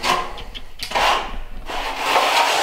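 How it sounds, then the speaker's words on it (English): A small plastering trowel works and turns wet plaster on a board, giving continuous scraping, rubbing strokes in loud close bursts with brief pauses, and no talk. "move it around a bit, put a bit of life in the plaster"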